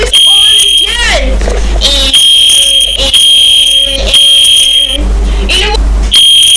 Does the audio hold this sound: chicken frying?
no